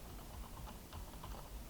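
A computer keyboard clicks in faint, quick key presses, heard softly against a steady background hiss.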